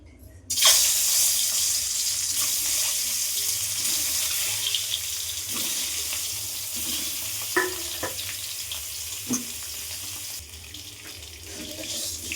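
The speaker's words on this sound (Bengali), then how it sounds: "এটা এরকম করে লাল লাল মতন করে আমি হালকা একটু ভেজে নিয়েছি।" Eggs coated with turmeric and salt fry in a pan with a steady, close sizzling hiss, broken by occasional soft clicks and stirring knocks. No one speaks over it.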